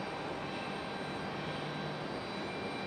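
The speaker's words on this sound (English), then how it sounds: "The 737 is about to get a move on though." Steady, broadband roar of Boeing 737 jet engines at Raleigh-Durham airport in stormy weather, a continuous, fairly distant rumble with no clear rise or fall and no voices.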